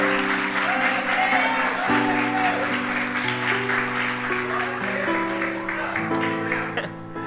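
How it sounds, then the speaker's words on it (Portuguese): A church congregation claps along during a sermon while sustained organ or keyboard chords play underneath, the applause a steady wash that fades near the close. "Dá para você levantar a mão e aplaudir a este Cristo"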